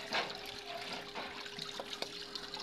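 Water splashes and trickles briefly over an induction cooker board during rinsing, a short, fairly faint wash with a few drips.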